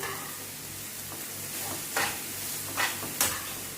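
Salted cabbage and mixed vegetables fry in a pan with a soft continuous sizzle while a spoon stirs and scrapes through them, giving several louder scraping strokes; no one speaks.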